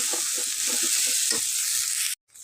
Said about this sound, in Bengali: মশলা দিয়ে আমি ভালো মতন মশলা কষাই নেব